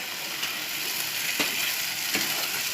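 Jaggery halwa cooks on a low flame, giving a steady soft sizzle with a few scraping stirs of the spoon through the thick mixture, close and alone without talk.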